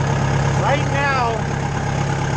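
A Mayco LS-40 concrete pump engine idles with a steady low hum throughout. A brief voice-like chirp rises and falls over the hum near the middle.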